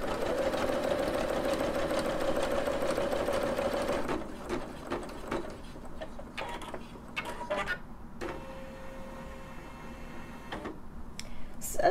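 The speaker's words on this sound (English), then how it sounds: "So our first color just finished stitching out." A Singer Legacy SE300 embroidery machine stitches out a design in a fast, even mechanical whir for about four seconds, then stops, leaving scattered clicks and small mechanism sounds.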